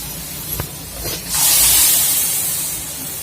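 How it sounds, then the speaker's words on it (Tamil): Ground tomato paste hits a hot pan of sautéed onions for a raw banana gravy, a couple of soft thumps followed by a loud, sustained hissing sizzle that slowly fades. "இப்போ நம்ம அரைச்சி வச்சிருந்த தக்காளி ஊற்றுறோம்"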